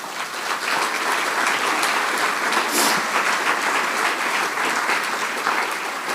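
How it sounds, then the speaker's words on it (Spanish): Church congregation clapping for the Lord during a sermon, a dense, steady wave of applause from many hands that stays loud and even for around six seconds. "¿Por qué no le damos un aplauso al Señor?"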